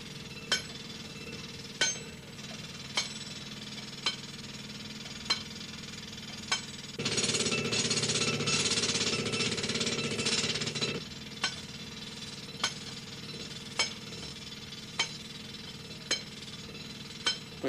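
A pneumatic drill bores into rock in a mine, hammering loudly and continuously for about four seconds, framed by sharp, regularly spaced metallic clanks before and after.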